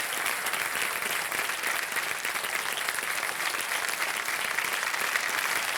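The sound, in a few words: studio audience standing ovation applause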